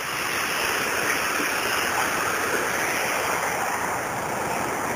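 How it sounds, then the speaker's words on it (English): Waterfall on Los Gatos Creek below the Lexington Reservoir spillway, a steady broadband rush of falling water that holds constant and loud throughout with no voices. "And there's another waterfall"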